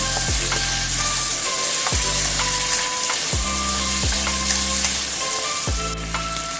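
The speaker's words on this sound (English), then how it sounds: "Stir fry the beef tendons. Add in the cooking wine." Beef tendons stir-fry with cooking wine in a hot pan, a steady loud sizzle broken by regular spatula scrapes and clanks against the metal.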